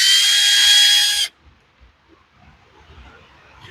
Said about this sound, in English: Now I'll go ahead and pull the carb off.